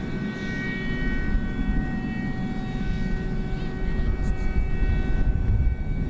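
A McDonnell Douglas MD-11 takes off at night at Dallas/Fort Worth Airport, its jet engines making a loud, steady roar with humming tones that holds for the whole stretch.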